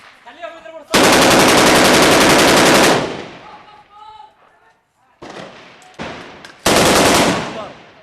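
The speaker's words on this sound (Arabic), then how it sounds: "خليهم يضربوا رصاص" Loud bursts of automatic gunfire, close by, in two long volleys separated by shorter bursts, with shouting voices in the pauses, during a battle in the city of Al-Harak.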